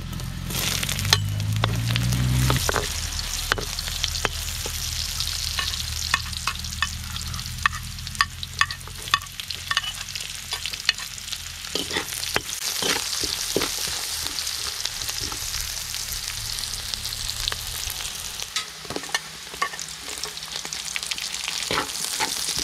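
Meat sautés in a hot pan with a steady sizzle while a utensil stirs and scrapes it in frequent sharp clicks, close and continuous, with no talking.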